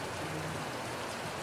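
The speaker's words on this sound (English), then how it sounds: "It is raining. And raining pretty heavy." Heavy rain pours steadily over an outdoor baseball field, a dense, even hiss with no breaks, loud and unbroken throughout.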